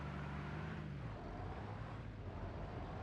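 A military truck engine rumbles on the move in Arma Reforger, a low steady drone with a brief pitch shift as it shifts, close and continuous with no talk over it.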